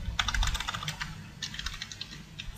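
Soft, quick keystrokes on a computer keyboard as a search is typed into Google, coming in uneven bursts with short pauses, quiet and close with no talking.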